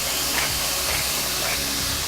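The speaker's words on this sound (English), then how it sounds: "I'm going to let that saute for about 3 or 5 minutes." Onions sautéing and caramelizing in a pan make a steady, close, broadband sizzle with no breaks, filling the short stretch without any talking.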